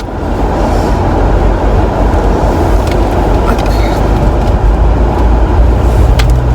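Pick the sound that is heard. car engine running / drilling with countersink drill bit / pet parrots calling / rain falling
car engine running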